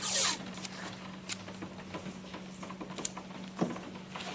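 Strips of tape torn off a roll and pressed onto a Porsche 996 taillight: a loud rasping rip at the start, then soft crinkles, taps and a short scrape up close, with a steady low hum underneath.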